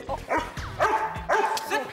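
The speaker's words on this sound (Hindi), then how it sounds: "वरना शेरू तुम्हें देखकर भौंकता ही रहेगा" A pet dog in an Indian TV sitcom barks repeatedly at close range, with several sharp woofs in an uneven rhythm mixed with a few yips and whimpers.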